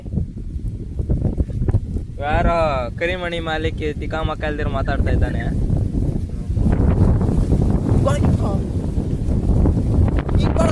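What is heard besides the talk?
strong wind blowing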